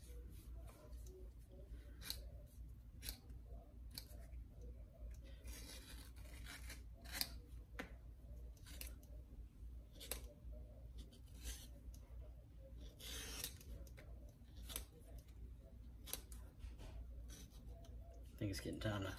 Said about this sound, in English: bevel the edges. Give it a more finished look.